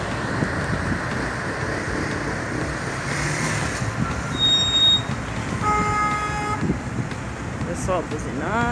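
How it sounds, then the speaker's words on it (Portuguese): Car horns toot in busy roadway traffic during a strike protest on a ring road, with short tonal blasts rising over a steady traffic roar and voices talking throughout. "Só buzinando, não adianta buzinar."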